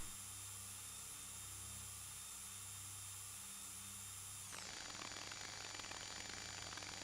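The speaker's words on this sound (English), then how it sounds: "You see it drilling into the side of it." A drill bores into an object in the Stories Untold video game, giving a steady, loud electronic whine and hum that shifts abruptly to a rougher grinding tone partway through.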